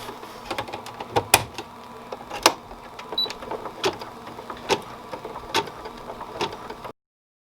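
An embroidery machine stitches a mouse ears headband, producing a steady mechanical hum with rapid, irregular ticking and clicking throughout before stopping abruptly.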